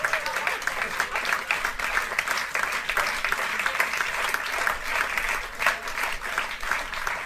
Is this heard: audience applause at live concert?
yes